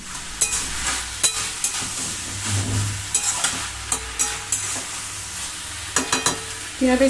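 Curry frying in a pan in a home kitchen, stirred with repeated sharp scrapes and knocks of the utensil over a steady sizzle, fairly close and without talk.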